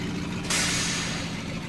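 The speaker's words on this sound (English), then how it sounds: "I love the air brakes. Listen to this." Truck air brakes in Farming Simulator 17 release a sudden loud hiss that starts partway in and holds steady, over a low idling engine rumble.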